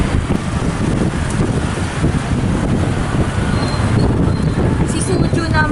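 Strong gusts of wind buffet the microphone during a city walk in Saigon as rain approaches, a loud, continuous rumbling roar that masks most other street sounds.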